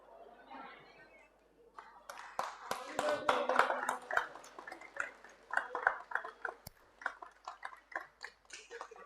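An audience at a hostel inauguration in Udaipur claps to welcome small children, a burst of many hands building into rhythmic, clustered applause while someone speaks over it.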